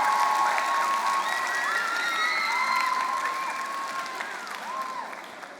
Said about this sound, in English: Scholars, please give a big round of applause to every scholar on the panel.